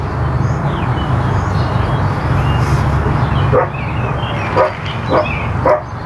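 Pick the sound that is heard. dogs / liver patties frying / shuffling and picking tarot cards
dogs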